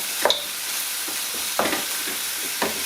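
Mutton pieces stir-fry on a high flame for a curry, a bright continuous sizzle broken by three sharp spatula scrapes and tosses, loud and close with no talking.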